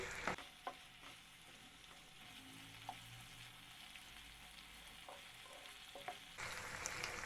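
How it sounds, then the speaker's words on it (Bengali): Grated ginger-garlic paste fries in a pan over a medium flame, a steady soft sizzle broken by a few clicks of stirring, with a brief louder burst near the end. "চুলা মিডিয়াম ফ্লেমে রেখে সবগুলো নেড়ে চেড়ে ফ্রাই করে নিচ্ছি"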